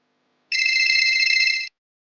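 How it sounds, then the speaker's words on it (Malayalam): A mobile phone rings upstairs in a house: a single steady electronic ringtone burst of about a second, clear and alone against silence. "മുകളിലെൻ്റെ ഫോൺ റിങ് ചെയ്യുന്നുണ്ട്."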